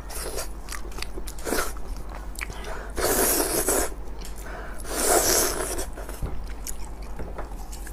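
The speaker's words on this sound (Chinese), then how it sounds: "有很多人喜欢看我这么抠羊眼吃了" Close, wet chewing and biting on a spicy sheep head and its eyes, with sticky squelches and a few louder crunchy bites in a steady rhythm and no speech.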